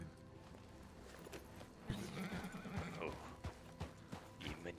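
A person imitates a horse neighing, a loud whinnying call with a faint hoof-like clatter, heard outdoors on a road amid other voices and movement.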